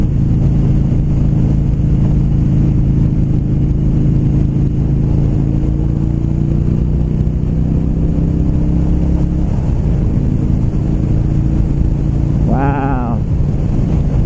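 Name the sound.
2016 Low Rider motorcycle accelerating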